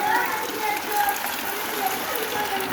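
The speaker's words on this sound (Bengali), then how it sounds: "বৃষ্টি হচ্ছে" Monsoon rain falls steadily in rural Bangladesh, a dense, even hiss of drops that holds at the same level throughout with no clear pauses.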